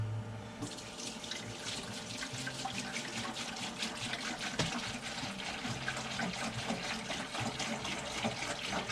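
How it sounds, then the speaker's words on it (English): Hot water runs steadily from a tap into an ultrasonic cleaner tank during a Holley 600 carburetor rebuild, a continuous splashing fill heard close up and alone. "I'm going to just add some water"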